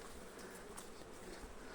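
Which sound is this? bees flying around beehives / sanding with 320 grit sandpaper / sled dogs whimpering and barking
bees flying around beehives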